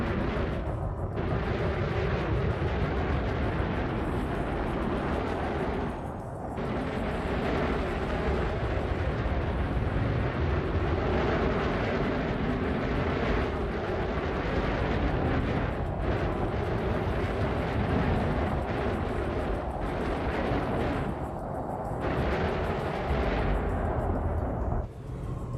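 Spaceship thrusters in the video game Elite Dangerous roar as a continuous, loud, rumbling blast, with a few brief dips in intensity.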